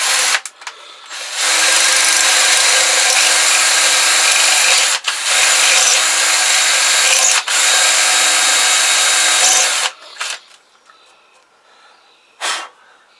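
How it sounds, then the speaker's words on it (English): A loud power drill whines steadily into a metal Kawasaki GPZ500S engine part, the bit walking off to one side, running in long bursts with brief breaks, then stops, leaving quieter handling noises. "I'm drilling and the drill is sort of walking that way"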